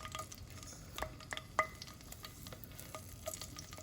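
Green chillies frying in a couple of spoonfuls of hot oil in a pan, a steady soft sizzle with a few sharper pops and stirring clicks throughout.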